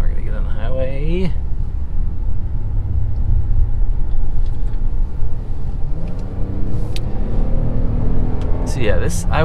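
A 2021 Kia Telluride SUV accelerates onto a highway with a continuous engine hum and road rumble inside the cabin, while a voice briefly speaks at the start and again at the end.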